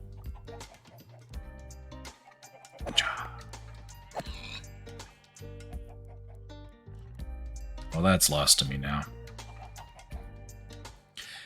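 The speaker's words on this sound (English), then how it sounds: "See you little chickens down here." Minecraft chickens clucking in a game, short clucks scattered across the stretch amid game sounds and background music, with a person talking over them.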